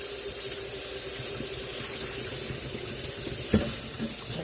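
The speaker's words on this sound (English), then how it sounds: "I'm going to drain these noodles now." Boiled fettuccine noodles drained from a big pot into a kitchen sink, with hot water pouring in a steady, continuous rush and a brief clunk near the end, with no talking.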